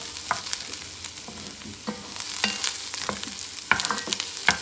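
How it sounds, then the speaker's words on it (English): Garlic and mirepoix sizzle in a pot for a French-style lamb stew, with a steady frying hiss broken by repeated scraping and clinking strokes as a utensil stirs the vegetables. "Adding the garlic to the mirepoix."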